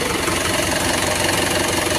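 Quanchai diesel engine idling steadily with a dense, continuous mechanical clatter and hum, close and loud, no voices; the engine has a stalling problem linked to a faulty alternator voltage regulator.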